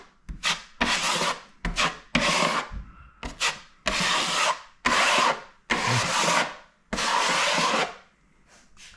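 A drywall knife drags excess joint compound across a wall patch in separate, gritty scraping passes with short pauses between strokes, close and fairly quiet.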